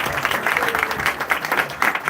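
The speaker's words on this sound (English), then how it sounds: "let's give Steve Marchand another round of applause" A crowd at a campaign office opening in Plymouth, New Hampshire, applauds Steve Marchand with steady, close clapping that fills the whole stretch.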